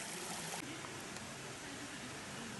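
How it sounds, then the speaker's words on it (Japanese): Shiraito waterfall on Miyajima, a steady broadband rush of flowing water heard close and alone, with no talking. "白糸の滝、"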